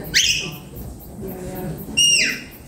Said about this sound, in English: If I need it closer to the sheep, it's a walk up or 2 whistles.